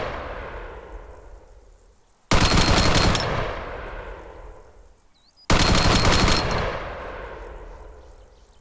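An M240 machine gun in ArmA 3 with the RHS mod, two long, loud sustained bursts of rapid automatic fire, each leaving a rolling echo that fades into the distance.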